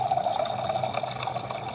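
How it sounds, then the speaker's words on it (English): Water running from a kitchen tap into a dog's water bowl, a steady close pouring stream with a constant tone throughout. "I'm gonna fill up your water."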